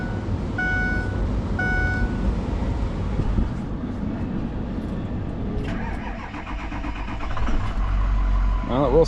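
A 1999 Dodge 3500 truck with a Cummins engine cranks, then catches and runs with a loud, rough mid-pitched drone that settles into a steady idle.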